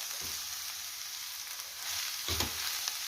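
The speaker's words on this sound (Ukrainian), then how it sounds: "І зараз буду обсмажувати трошечки тут морку з цибулею" Carrots and onion fry in a pan with a steady hiss, and two louder bursts of sizzle, stirring and scraping break through at the start and again near the end. No voices.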